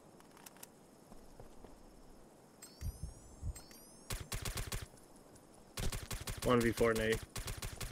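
Bursts of automatic gunfire in the tactical shooter Socom 2 crack out in sharp clusters between quieter stretches, with players talking over team chat.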